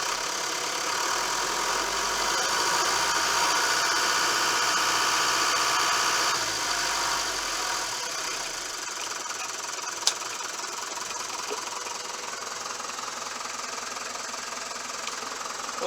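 A 2001 Mitsubishi Fuso FE145 flatbed truck with a 4.9L turbo diesel idles steadily up close, a constant low rumble with a slight drop in level partway through and one brief click, no talking.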